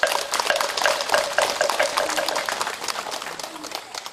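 Audience applause at an eye-opening consecration ceremony for a reclining Buddha statue at Sin Godalsa temple, a dense patter of many hands that is fairly loud at first and then gradually thins toward the end.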